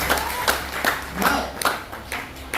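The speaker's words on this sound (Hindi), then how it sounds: "एक जोरदार ताली अपने लिए लगाइए।" An audience at a Hindi motivational business seminar claps in a loud burst of rhythmic, roughly regular claps, about six distinct pulses over a couple of seconds, close and unaccompanied by talk.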